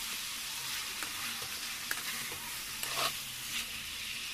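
Chicken pieces frying in butter in a pan for pulao, a steady, soft sizzle with occasional stirring clinks and scrapes, close and fairly quiet with no talking.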